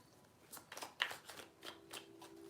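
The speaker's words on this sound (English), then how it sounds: "3 shuffles for Leo" Tarot cards being shuffled in a quiet room, a few soft riffling bursts and light slaps in close succession, faint and alone.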